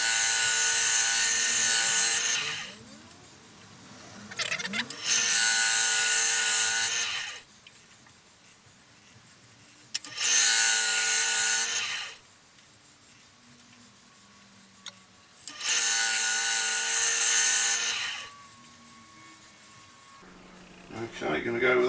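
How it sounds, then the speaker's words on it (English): Gentle hand scraping on a piece of crotch wood, heard as four long, steady bursts of scraping a few seconds apart, each separated by quiet pauses, close and fairly loud. "I think I'm just going to do some gentle scraping."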